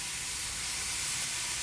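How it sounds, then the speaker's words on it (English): Thin marinated meat slices sizzle loudly in a hot pan, a dense, continuous hiss close up with no voices. "There's that sizzle."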